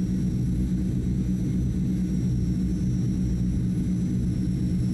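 Transall C-160 twin turboprop engines in Microsoft Flight Simulator 2020 drone in a steady, deep rumble as power is added during a tactical approach, continuous and unbroken with no voices.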